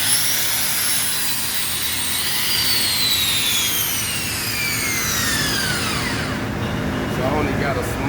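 A small grinding wheel cleans out a weld root pass, a loud continuous high whine with harsh grinding noise close by, its pitch sweeping and dropping as the wheel loads against the metal.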